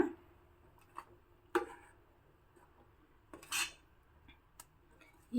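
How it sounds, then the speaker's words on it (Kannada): A metal spoon scrapes and clinks against a cooking pot while spice powder is mixed into a traditional Havyaka dish, giving a few sparse, close taps and one longer scrape amid quiet. "ಇವಾಗ ಚೆನ್ನಾಗಿ ಒಮ್ಮೆ ಮಿಕ್ಸ್ ಮಾಡ್ಕೊಳ್ಳೋಣ"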